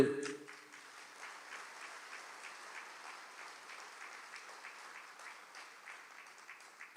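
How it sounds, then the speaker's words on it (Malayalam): Congregation at a Catholic church service clapping hands, a steady soft patter of many hands that follows a brief louder onset and continues fairly evenly at a moderate distance. "ഒന്ന് കൈയുയർത്തി കൈയടിച്ച്"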